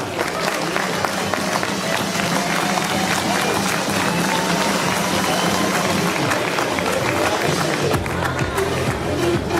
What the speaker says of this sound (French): monsieur Khalid Shahid, sous vos applaudissements.